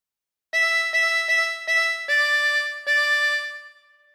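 Harmonica plays the opening phrase of Waltzing Matilda, six clean separate notes in a slow rhythm, the last one held and fading, solo and close.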